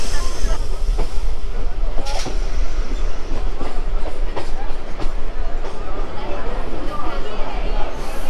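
A crowded Sealdah–Diamond Harbour local train runs on after leaving Baruipur, loud continuous rumble with rhythmic clickety-clack of wheels over rail joints, and passengers' voices mixed in.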